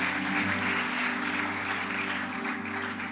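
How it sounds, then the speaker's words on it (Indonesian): Church congregation applauding after a sermon, a sustained wash of many hands clapping for several seconds, fairly even and slowly fading. "Kita berikan tepuk tangan terbaik buat Tuhan."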